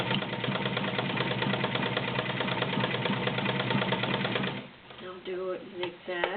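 A Kenmore model 1247 sewing machine stitching fabric runs with a steady, fast mechanical whirring and needle clatter for several seconds, then stops, leaving quieter intermittent clicks and a brief voice.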